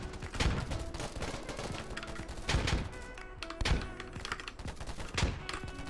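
M14 rifle fire in a first-person shooter on the Metro map: loud sharp reports in uneven single shots and short bursts, mixed with thuds and other battle noise, with no talk.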